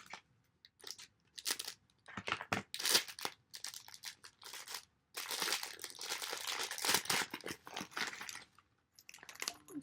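Plastic packaging around a keychain item crinkles and crunches in close, uneven bursts as it is handled and opened, with short quiet gaps and no talk.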